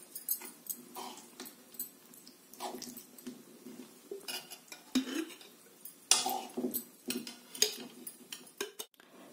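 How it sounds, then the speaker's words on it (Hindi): Tomato pickle is spooned into a glass jar, with irregular clinks and scrapes of a spoon against glass and metal, some sharper taps standing out in a quiet kitchen. "अब हम इसे ग्लास के जार में भर लेंगे"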